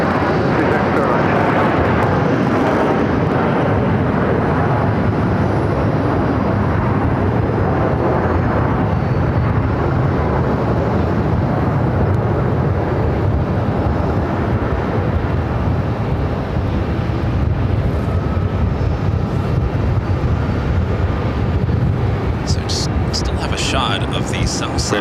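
Fixed-wing airliner landing at Phoenix Sky Harbor airport, a steady loud jet engine roar throughout with a broad rumble, and air traffic control radio talk faintly heard alongside.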